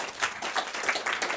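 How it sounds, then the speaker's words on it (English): An audience at an evening talk on pitching to investors claps as a presenter comes to the stage, giving a brief, steady burst of applause. "Let's give her a round of applause, please,"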